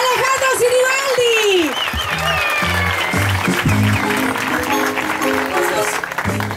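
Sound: audience applause welcoming a minister

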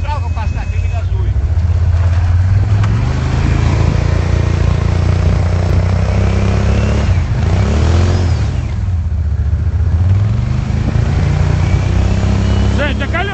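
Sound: snowmobile engine revving while stuck in snow

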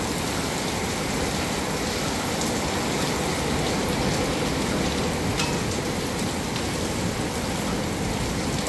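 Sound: heavy rain falling

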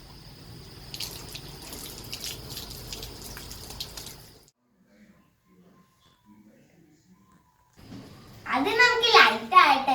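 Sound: water running from a tap

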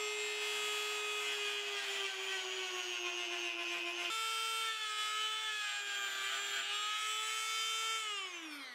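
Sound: Dremel rotary tool grinding lip inside plastic pipe reducer

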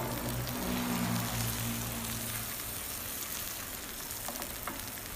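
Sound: beaten egg frying in hot margarine

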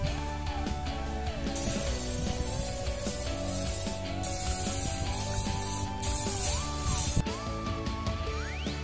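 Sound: sprayer spraying insecticide on crops

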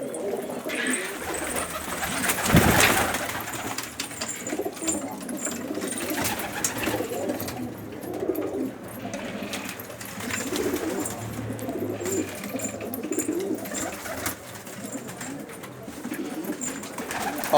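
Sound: Syrian homing pigeons cooing

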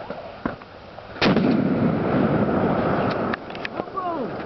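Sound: gunshots fired at a shooting target

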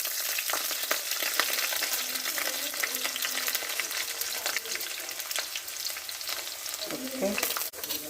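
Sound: ginger sautéing in a pan for fish curry

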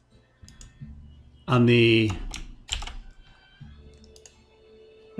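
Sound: computer mouse clicks and keyboard presses

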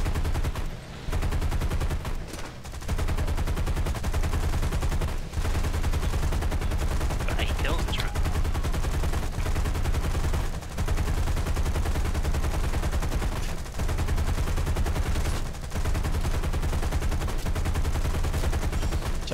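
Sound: aircraft gunfire in War Thunder video game

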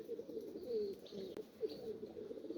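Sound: male pigeon cooing

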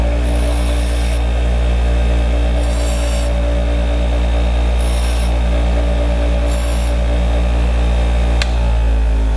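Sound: power grinder grinding edges of a jaw harp reed

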